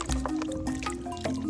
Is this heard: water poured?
yes